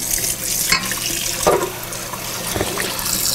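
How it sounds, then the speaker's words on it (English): Steel wool scrubbing a stripped cast iron pan under running water from a tap, with continuous splashing and water flow and a few louder scraping bursts near the middle and end. "This pan itself was a little bit difficult to scrub out because of all of the small places on it with the steel wool"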